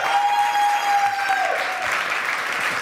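Steady applause from an audience at a sommelier competition, dense and continuous for the whole stretch with a thin whistle-like tone passing over it early on.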